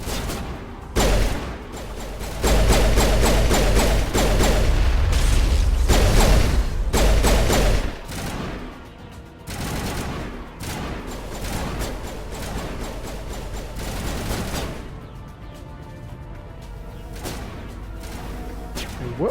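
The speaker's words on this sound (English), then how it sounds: "What are they shooting at?" Gunfire in the video game Mass Effect, bursts of rapid shots and cracking impacts mixed with whooshes and mechanical clatter, loud and busy at first, then thinning into scattered sharp hits.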